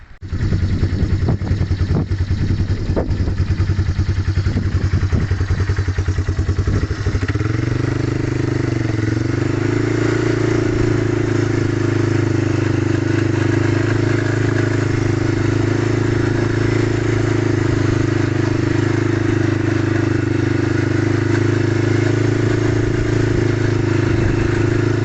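A 1995 Yamaha Timberwolf 4x4 ATV with a 250cc engine runs steadily and loudly up close, with a rattly start in the first seconds settling into a constant, even idle drone.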